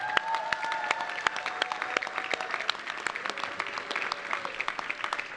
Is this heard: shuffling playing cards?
no